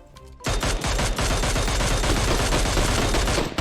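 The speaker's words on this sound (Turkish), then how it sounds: "Ulan elimizdeki silah keskin nişancı be kardeşim." Automatic marksman rifles, a Mini14 and an MK14, fire in a video game as a dense, loud and continuous volley of rapid shots that starts abruptly and keeps going.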